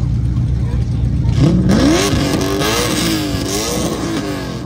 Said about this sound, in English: let's see how loud this TVR is.